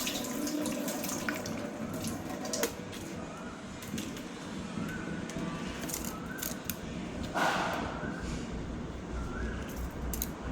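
Rice being rinsed in water in a home kitchen before grinding for egg appam, a steady wet swishing and splashing with scraping sounds, close and continuous, with no talk.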